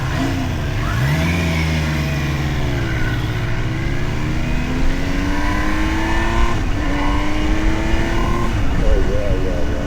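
A Triumph Trident 800 motorcycle engine revs steadily, its pitch climbing and settling through gear changes, loud and close, with voices talking over it.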